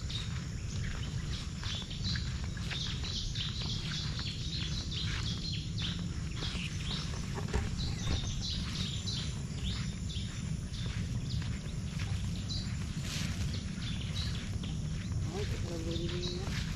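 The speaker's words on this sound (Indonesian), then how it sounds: "Gitu, dengar teman-teman, banyak burung." Many prinia birds calling around an oil palm area, with rapid chirps and tweets scattered throughout over steady insect and outdoor background noise, while a person talks.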